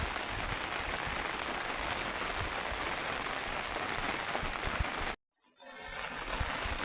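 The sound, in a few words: heavy rain falling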